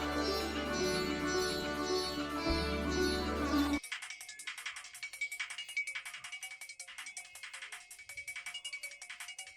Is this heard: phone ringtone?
yes